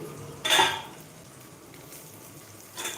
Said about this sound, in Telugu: పుదీనా వేస్తున్నాను